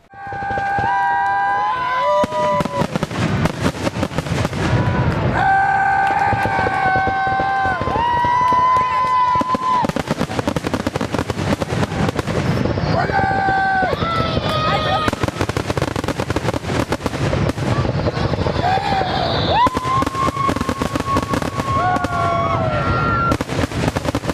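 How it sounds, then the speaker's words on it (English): Fireworks shells fired from a barge on Lake Orion, with a dense run of booming bursts and crackles across the whole stretch, loud and continuous, mixed with steady tonal sounds like music and crowd noise. "The show got a late start with the first shell launch from a barge on the lake at 10:30 p.m."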